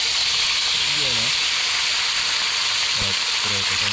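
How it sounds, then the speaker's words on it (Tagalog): Kingmackerel pieces fry in hot oil with a loud, steady sizzle and hiss close by, while a voice speaks briefly over the crackle. "So prito na tayo."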